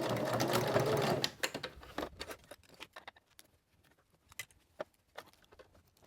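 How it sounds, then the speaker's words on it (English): A sewing machine back-stitches a magnetic wrist cuff, first in a steady whirring run, then in short stop-start bursts of stitching close by. "I'm going to cross it and back stitch."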